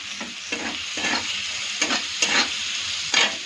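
Onions with salt are stirred in a hot frying pan, each scrape of the spatula rising over a continuous sizzle in a slow, uneven rhythm of about six strokes, close and clear.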